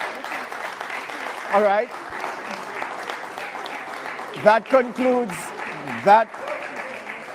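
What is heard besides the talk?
applause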